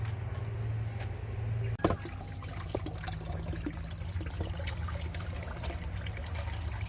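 A 12V DC solar-powered water pump pushes a weak flow of water from its outlet pipe, making a faint, steady trickle that turns into a busier, splashing wash after a sharp knock, with no talking.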